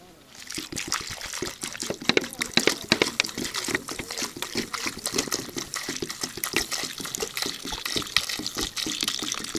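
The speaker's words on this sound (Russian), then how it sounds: "Все, залил водой." Water pouring into a camping pot for cooking potatoes at a riverside fishing camp, a bubbling, splashing stream that starts after a short pause and runs steadily at close range, with faint talk underneath.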